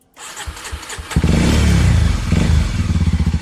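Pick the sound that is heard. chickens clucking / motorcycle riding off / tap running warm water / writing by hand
motorcycle riding off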